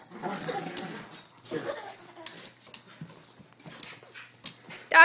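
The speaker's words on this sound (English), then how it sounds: "Doggies." Dogs out on a walk whimpering and panting in short, uneven bursts close by, with faint yips mixed in and no clear talk.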